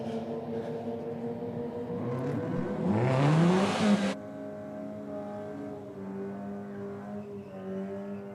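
Mazda race car engine revving in a race, a steady mid-pitched drone with one louder, brighter burst of acceleration and tire noise, then settling back to a softer hum without talk.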